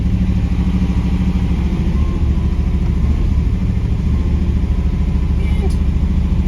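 V8 engine swapped into a Camaro with deer damage, running at a steady rumbling idle in a body shop, close and loud throughout, with voices talking over it.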